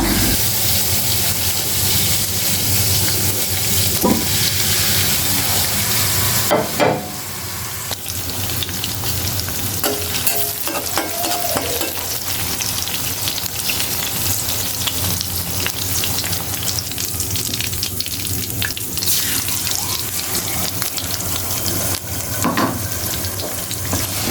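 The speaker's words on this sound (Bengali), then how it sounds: "লবণ দিয়ে এটাকে একটু ফ্রাই করে নেবো আগে আলাদাভাবে" Salted, chili-seasoned ingredients fry in oil for noodles, a continuous close sizzle and hiss with occasional stirring clatters throughout, no voices.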